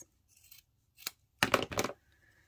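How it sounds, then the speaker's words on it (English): Sharp scissors snip off fabric corners on a sewing project, giving a few quiet, close cuts, a single crisp snip and then two quick louder snips in a row. "we are going to snip off our corners"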